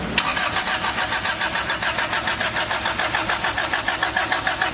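A turbocharged four-door Honda Civic engine cranks over and over with a fast, even rhythmic churn, loud and close, with no talk.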